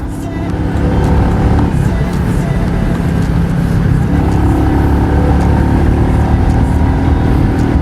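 Royal Enfield Meteor 350 engine pulling hard through the gears, a continuous loud close thrum that climbs in pitch with a brief dip at a gear change, with no voice over it.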